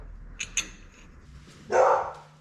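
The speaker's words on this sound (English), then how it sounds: "I noticed the dog always barks too" A dog near a garage workspace where an El Camino rear end is being rebuilt gives a couple of quick yips, then one louder, fuller bark after a pause.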